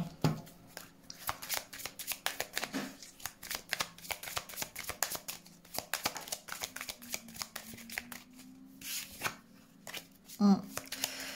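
Tarot cards are shuffled for a reading in quick, papery riffles and flicks that repeat close up, with a low voice murmuring faintly underneath.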